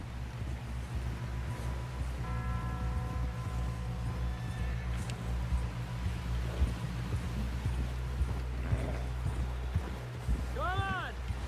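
Horse galloping in the video game Red Dead Redemption 2, with steady hoofbeats and whinnies running under game music and talking voices, close and sustained throughout.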